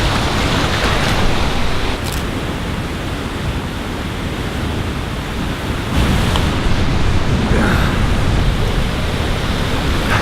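A Central Oregon waterfall roars as a loud, dense, steady rush of water heard up close in the mist, with faint wind buffeting the microphone.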